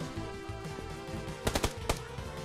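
PUBG Lite gunfire: a quick cluster of three or four sharp shots followed by one more, sounding over a steady bed of game music and ambient noise.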